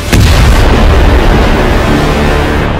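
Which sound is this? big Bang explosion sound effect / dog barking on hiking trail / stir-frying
big Bang explosion sound effect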